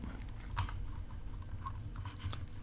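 Soft, quick clicks of typing on a computer keyboard while a slash command is entered to add a container block, faint and close over a low background hum.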